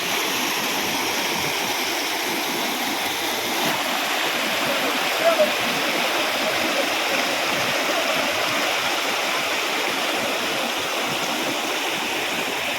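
Rushing water roars continuously and evenly, a close waterfall and flowing stream in a forested area at Vadattupara Waterfalls, Kothamangalam, with no pauses.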